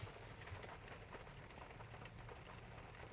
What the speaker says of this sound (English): And it's raining right now, as you can see.